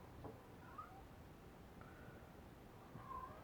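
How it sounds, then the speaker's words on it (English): A cat meows faintly in the background, a few short calls spaced across a quiet room tone near a workbench where an amplifier is being built. "y'all can hear that cat in the background,"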